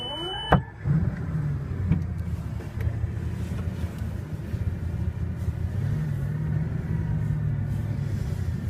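A Bugatti driving at night rumbles with a low, heavy engine drone heard from inside the cabin, steady with gentle swells as it accelerates, after a brief click and thump at the start.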